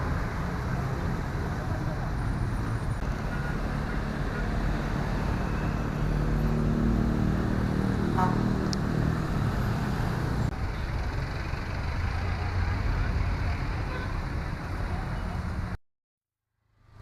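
Dense rush-hour road traffic near an MRT/LRT line on Commonwealth in Quezon City at past five in the afternoon, a steady loud rumble of cars, buses and trucks with voices mixed in, cutting out abruptly near the end.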